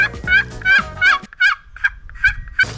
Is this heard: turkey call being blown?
yes